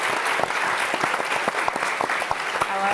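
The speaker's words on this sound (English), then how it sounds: "Round of applause for those folks." A live audience claps steadily, a dense round of applause with individual sharp claps standing out, filling the whole short stretch at a moderate distance.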